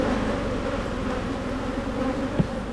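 Honey bees hum in a dense, steady drone at an open, strong hive full of brood, a continuous buzz heard close by with a brief knock near the end.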